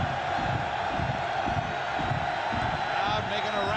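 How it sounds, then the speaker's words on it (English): A football stadium crowd roars steadily on a third-and-three at the 25-yard line in a Houston Cougars game, a dense, sustained wash of massed voices and cheering with no gaps. "Crowd making a racket on a 3rd and 3 at the 25."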